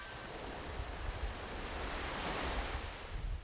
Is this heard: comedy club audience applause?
no